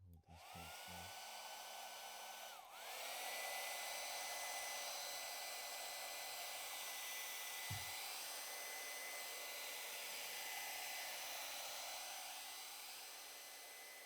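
A hair dryer drying paint switches on with a rising whine, blows steadily and loudly for a long stretch, with a brief click midway.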